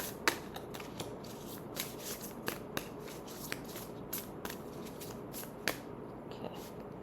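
Tarot cards are handled and shuffled while one more is drawn from the deck, soft papery riffling with light snapping flicks, faint and close.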